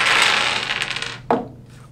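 A handful of 13 small Martian Dice board-game dice pours out of a tiny lidded container in a brief, bright rattling clatter, ending with a single sharper knock before trailing off.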